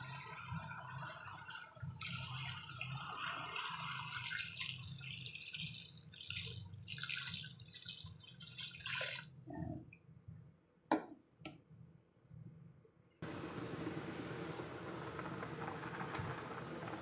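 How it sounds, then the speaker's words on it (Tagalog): Water running and splashing into a cooking pot for a chicken dish, a steady pour with drips and clinks, pausing briefly before a hissing stream resumes near the end. "maglalagay rin ako ng water"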